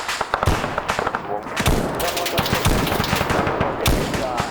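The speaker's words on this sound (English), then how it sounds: "They really like shooting that thing up, that's for damn sure" Video game gunfire pours out in loud, rapid automatic bursts, dense rattling shots close by with heavy booming impacts mixed in, nearly continuous throughout.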